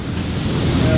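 Rushing water released from a dam, heard as a steady broadband roar with wind buffeting the microphone, continuous and fairly loud from nearby.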